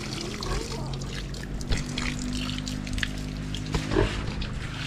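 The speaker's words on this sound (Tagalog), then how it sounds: "Yan yung baboy." Pigs grunt in a farm pen on a hot day while water splashes and trickles as the pen is washed and the pig is bathed, with faint, soft grunts under steady running water.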